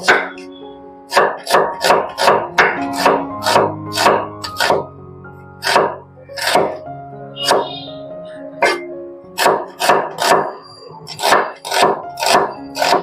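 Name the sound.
onion being chopped with a knife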